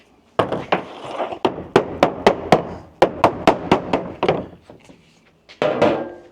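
A rubber mallet hammers parts of a truck storage system into place, with loud, sharp repeated blows in uneven bursts separated by short pauses, close-up and with no talking.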